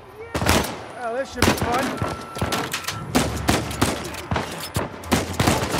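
Uncharted 4 gunfight: a rapid series of loud, punchy gunshots and bursts of fire, close and irregular, with a voice speaking briefly partway through.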